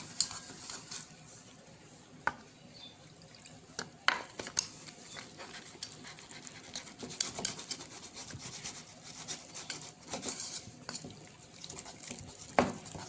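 Eggless waffle batter is stirred and whisked in a bowl close up, producing continuous soft scraping and wet rubbing with scattered light taps against the bowl; no one speaks.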